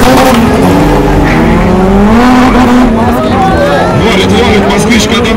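Turbocharged drag racing cars, including a single-turbo valve-engined Moskvich and a twin-turbo 3-litre Toyota, roar loudly under boost, with engine pitch rising and shifting. A crowd murmurs and a voice talks over the steady racket.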